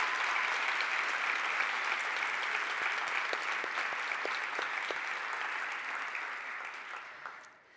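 Sustained audience applause fills a large hall at MIT's 46th annual Dr. Martin Luther King Jr. celebration, a dense, steady wash of many hands that holds even for several seconds before fading away near the end.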